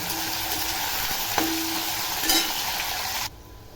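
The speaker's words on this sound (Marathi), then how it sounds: "आता मी हा बटाटा टाकते बटाटा ही चांगला असा तेलामध्ये तळून घ्यायचा" Potatoes sizzle steadily in hot oil with garlic, a dense continuous frying hiss with a faint clink midway, then the sizzle cuts off abruptly near the end, leaving quiet.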